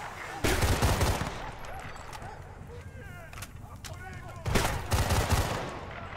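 Shotgun blasts in Battlefield: Bad Company 2, two loud booming bursts a few seconds apart over dense game noise, with a voice talking in between.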